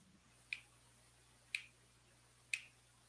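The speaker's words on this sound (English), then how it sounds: "let me clap my fingers" Three crisp finger snaps made close to the microphone, evenly spaced about a second apart, each sharp and isolated over a quiet room with a faint low hum.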